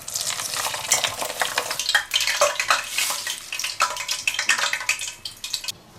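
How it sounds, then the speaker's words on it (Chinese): Fried scallions are scooped out of hot oil in a home kitchen, giving a busy crackling sizzle with scraping and stirring that runs continuously at moderate loudness and has no talk over it. "小葱炸好了，咱给它捞出来"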